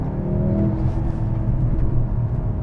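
A 2022 Mercedes-AMG C43 engine pulls hard under acceleration, heard from inside as a continuous low rumbling drone with a slight rising tone and no speech.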